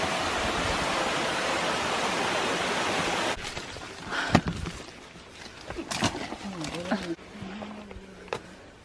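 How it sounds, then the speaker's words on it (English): A small mini waterfall outdoors in Kentucky pours with a loud, steady broadband rush for the first few seconds, then drops away to faint water sounds under people talking and a few sharp knocks. "Look at this, it's a mini waterfall."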